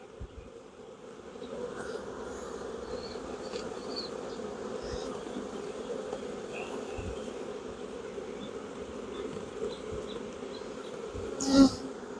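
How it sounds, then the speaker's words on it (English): Honey bees buzz around hive frames in October, a dense, continuous close-up drone that holds steady throughout with a brief louder swell near the end, and no voices. "So I just smoked the bees off gently."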